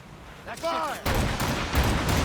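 Ship cannons fire in Assassin's Creed Rogue, heavy booming volleys rolling one into the next during a naval battle, loud and close with a shouted command just before.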